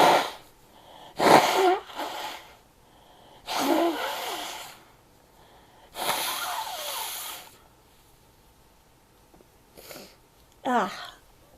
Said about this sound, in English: oh, I have to blow my nose